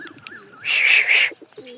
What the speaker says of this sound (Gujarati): કહો છો એટલા કબૂતર તો સણ ખાવા આવી ગયા છે